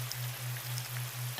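Rain falls in a soft, steady patter, with a light hiss and scattered drops, alone and faint, over a low constant hum and a brief knock at the end.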